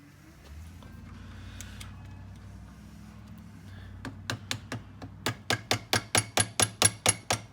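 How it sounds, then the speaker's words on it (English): Hammer blows on an antique Hurd heavy-weight padlock being taken apart, starting with a few scattered taps and building into a steady run of about a dozen sharp, evenly spaced metallic strikes, close and clear. "Hammer."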